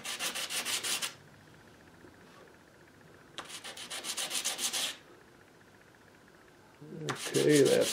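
Sandpaper of a finer 220 grit rubs across the wood of a 1937 Gibson L7 archtop guitar during restoration, producing three close, hissy bursts of steady back-and-forth strokes separated by quiet pauses.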